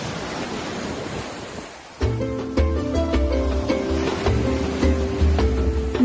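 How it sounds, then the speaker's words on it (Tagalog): Waves from the Tablas Strait break and wash onto the shore at Puka Beach, Boracay, a steady roar of surf that is joined after a couple of seconds by louder music. "sasalubungin ka rito ng mas malalakas na hampas ng alon mula sa Tablas Strait"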